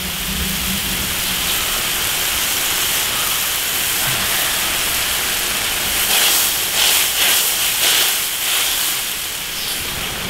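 Pot of lamb tripe with beef at a rolling boil, a steady broad hiss and bubbling like heavy rain that swells louder and busier in the final seconds, close up and without talk.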